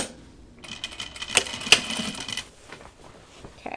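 A home sewing machine stitches a garment in short bursts, a fast mechanical whir with a couple of sharp metallic clicks, close and fairly quiet, no one speaking.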